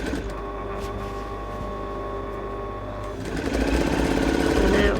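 A sewing machine runs steadily while stitching a sleeveless dress lining, its motor whirring continuously up close, then briefly picking up speed and growing louder near the end.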